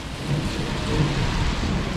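Sudden heavy rain pours down in a city street, a dense, loud, continuous hiss with low thunder rumbling underneath throughout.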